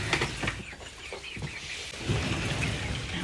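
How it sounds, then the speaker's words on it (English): Chickens cluck and chatter in a coop, a busy, moderately distant flock making irregular short calls over a rough, noisy background. "The chickens are just being goofy."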